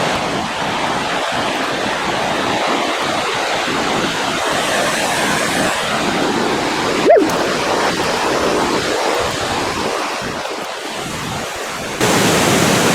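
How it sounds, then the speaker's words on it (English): Water roaring steadily over the old Civil War dam waterfall on Vickery Creek, a dense, continuous rushing wash heard up close with a brief bump midway. "the roar of the water"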